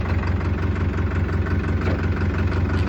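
A Farmtrac 6055 tractor engine runs at a steady, loud idle with an even low rumbling throb and no talking.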